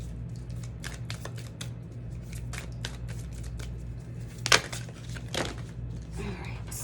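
A Moonology oracle card deck is shuffled by hand, a series of soft riffling flicks and taps with one louder snap midway, fairly close and quiet.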